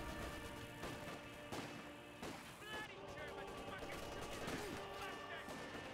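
Company of Heroes 2 battlefield combat as an air strike destroys a tank: repeated sharp gunfire and explosion bursts with crashing impacts, dense and continuous, mixed under ongoing game effects.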